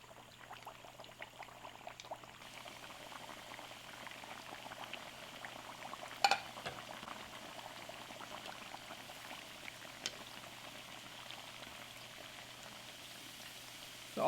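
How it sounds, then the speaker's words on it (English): Mathri, traditional Indian crackers, frying in a pan of hot oil, giving a steady soft bubbling sizzle with a small clack or two partway through, close and continuous with no talk. "Just put enough mathris in frying pan so you can turn them over easily."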